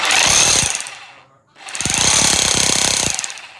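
Mailtank rotary hammer drill pounding in hammer mode, two loud sustained bursts of rapid chattering impacts separated by a brief pause as the tool stops and restarts.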